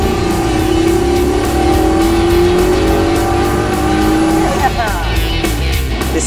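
An SSC Ultimate Aero turbocharged supercar accelerates in Las Vegas, its engine note rising steadily and loud from inside the cabin, followed by a gear change and a shifting pitch near the end.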